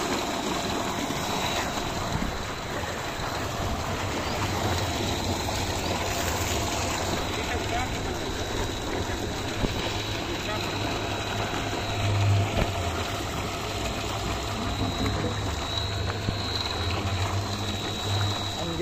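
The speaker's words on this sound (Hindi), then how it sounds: "हाँ जी पानी आ गए" Solar-powered water pump irrigating a field, a steady rushing gush of water with a constant low mechanical hum running throughout, fairly close and continuous.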